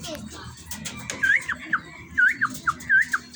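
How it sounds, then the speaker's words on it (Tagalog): Racing pigeons arriving at a loft, birds cooing and fluttering near, with bright whistle-like calls over a murmur of people talking in the background. "Ayan na po ang aming mga kalapati."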